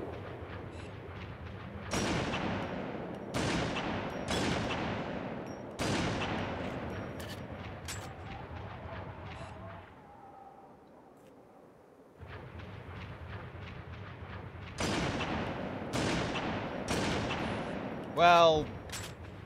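A tank fires in the video game Halo 3: loud, heavy cannon blasts and explosions repeat in bursts, with a quieter lull in the middle before the barrage resumes.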